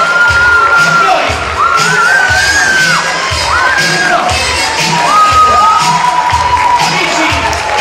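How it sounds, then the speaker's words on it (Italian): Crowd at an Italian amateur theatre awards ceremony cheering and shouting loudly and continuously, with whoops and rising shrieks over a dense, steady roar of noise. "Un applauso a noi!"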